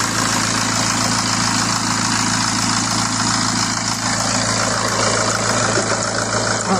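A BMW N47 diesel engine, just topped up with antifreeze after an oil filter and oil cooler leak repair, idles steadily close by with a constant low rumble and hum. No one speaks.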